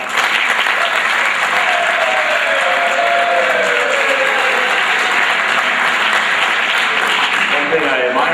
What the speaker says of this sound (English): these young men deserve a round of applause for that